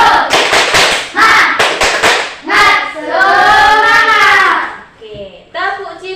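A classroom of children doing the 'tepuk semangat' rhythmic hand-clap chant: sharp clustered claps in a quick pattern, then the group chanting and singing together loudly, with more claps and voices at the end.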